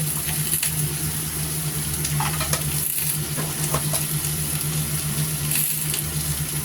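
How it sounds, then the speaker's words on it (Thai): Vegetables and shrimp stir-fried in a pan, a steady close sizzle with scraping and stirring of the spatula running throughout, no voices. "ผัดง่ายๆนะคะ เครื่องไม่มีอะไรยุ่งยากนะคะผัดง่ายๆจ้ะ"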